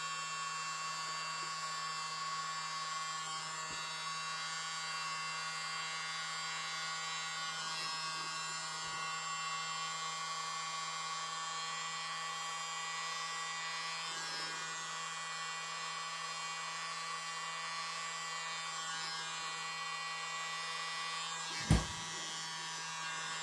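A small electric blower runs in a steady, even buzzing drone throughout, with one brief sharp knock near the end.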